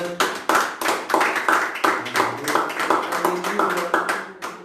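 A church congregation claps in praise of the Lord, a steady rhythmic run of hand claps, moderately loud and close, with a faint voice or two mixed in.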